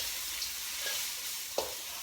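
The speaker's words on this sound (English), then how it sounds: "Just going to Stir this for a couple of minutes." Sticky ginger beef and vegetables stirred in a pan, a soft, faint sizzle with a couple of light spoon knocks, no voices.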